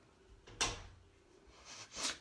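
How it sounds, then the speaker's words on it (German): A door is pushed shut in a quiet room, with a sharp thud near the start followed by a softer rattle and a second knock shortly after. "Schnell wieder die Tür zu."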